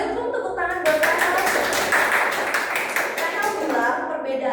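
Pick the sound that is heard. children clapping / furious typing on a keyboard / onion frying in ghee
children clapping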